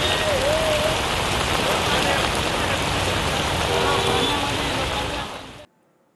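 Heavy monsoon downpour in Lonavala, a loud, dense, unbroken hiss of rain that fills the scene and then cuts off abruptly near the end.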